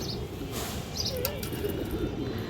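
Yellow gorra high-flyer pigeons coo softly in a loft, a few low throaty calls rising over a steady background hum, with a faint flutter of wings nearby.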